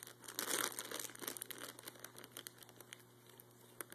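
A pet chews and crinkles a plastic bag up close, a dense burst of rustling crackles that thins into scattered sharp crinkles and pops.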